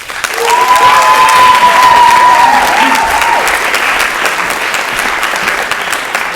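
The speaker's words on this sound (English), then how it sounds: "So let's give our applause one more time for Judy Tao." A school declamation contest audience applauds a finalist with loud, sustained clapping that swells, then holds steady, with a brief whistle-like tone early on and little speech.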